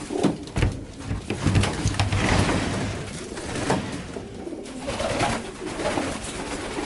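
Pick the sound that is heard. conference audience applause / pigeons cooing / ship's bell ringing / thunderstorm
pigeons cooing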